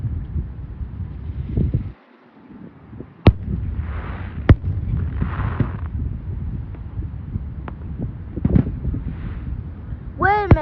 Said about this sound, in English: fireworks that we heard but didn't see what was coming from here